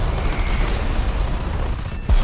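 An explosion in War Thunder rumbles as a loud, dense, sustained roar of heavy low blasts, ending in a brief gap and then a fresh deep thump.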